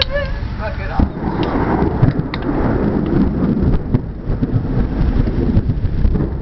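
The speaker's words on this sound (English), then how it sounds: "I'm getting rained on too much" Heavy rain pours during a thunderstorm with lightning, a loud, steady rushing wash with occasional deeper rumbles throughout and a brief voice near the start.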